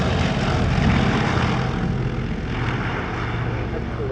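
A Lockheed Constellation C-121A, a four-engine propeller airliner and former US Air Force transport, flies past at an airshow with a loud, steady, broad propeller and engine roar that holds throughout, with no talk.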